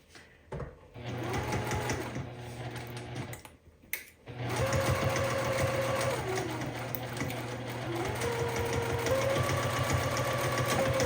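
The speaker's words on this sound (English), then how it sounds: "I'm gonna sew on the toweling side since this is the one that has grown, and I wanna make sure I secure everything" A sewing machine runs steadily and close, stitching through the terry side of a worn towel, with a brief stop and restart before a long continuous whir whose speed drifts up and down.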